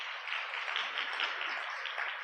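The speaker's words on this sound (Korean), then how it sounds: "박수 한번 주십시오." An audience applauds at a Korean business achievement event, steady even clapping from a large crowd, moderately distant and continuous throughout.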